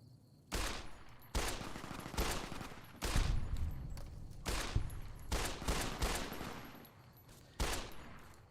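Pistol gunfire in Fallout New Vegas, around a dozen sharp loud shots spaced irregularly, some single and some in quick pairs, each cracking out with a brief echoing tail.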